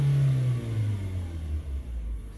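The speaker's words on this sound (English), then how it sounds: "As I give it gas, you guys can see" Car engine revving as the throttle opens, a close, falling-and-rising engine tone over about two seconds with no voices.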